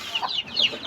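Chickens and young chicks cluck and peep in quick, soft, overlapping bursts, faint and close by for a brief moment.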